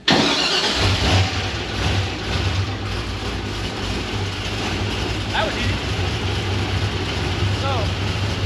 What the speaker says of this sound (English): right now I'm going to turn the car on